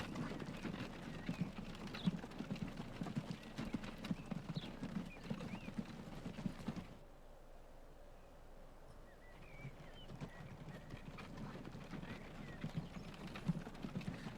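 Steady clip-clop of horse hooves pulling a wagon in the Transport Fever 2 game, the rhythmic clopping loud at first, dropping to a quieter stretch, then resuming.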